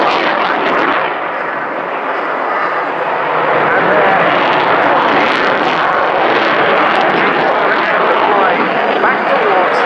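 A military jet pulls up into the vertical during a display at the 2018 RIAT airshow at Fairford, its loud, continuous broadband roar swelling slightly partway through and sustained throughout.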